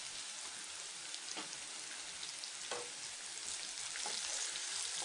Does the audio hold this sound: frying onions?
yes